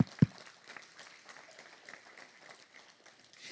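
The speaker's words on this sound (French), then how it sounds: "Quelqu'un devrait dire amen et applaudir le nom de Jésus." A church congregation gives light, scattered applause during a French-language sermon, faint and distant, with a single sharp thump at the start and a thin, steady patter of claps that neither builds nor fades.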